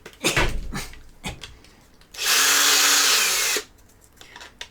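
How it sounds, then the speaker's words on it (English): A power drill whirs in one steady burst of about a second and a half, close by, between scattered knocks and handling noises. "So let's get the drill back up."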